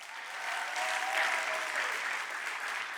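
Faint, steady applause from an audience for a participant, a soft even wash of clapping held at a distance for a few seconds.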